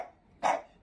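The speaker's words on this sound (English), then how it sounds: "This dog is the definition of all bark and no bite." A small dog gives a single short, sharp bark, close and fairly loud, with quiet room tone around it.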